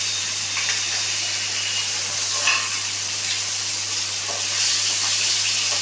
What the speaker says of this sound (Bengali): হালকা হালকা করে আমি ভেজে নিলাম।